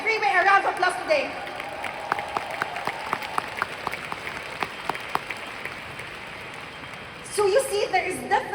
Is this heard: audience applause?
yes